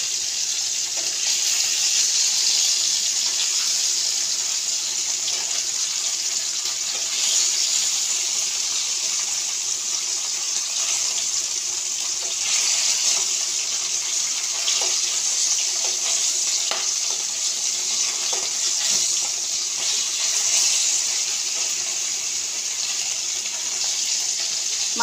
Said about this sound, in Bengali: এবার একে একে আমি মাছগুলো কড়াইতে ভেজে নেব